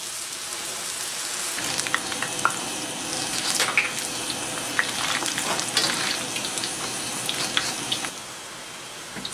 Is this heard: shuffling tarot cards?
no